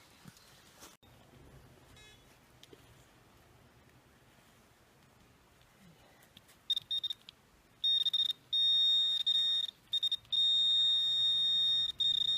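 A metal detector sweeps an 1830s homestead site in Maine: a few seconds of quiet handling, then sharp high-pitched beeps that start short and stutter and grow into longer, almost unbroken tones.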